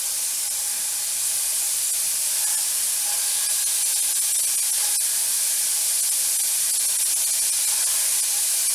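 Beef pieces torn by hand sizzle and hiss steadily in a hot pan for a homemade vegetable soup, a loud, continuous spray-like crackle with no voices.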